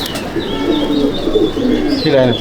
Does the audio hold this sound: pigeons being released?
yes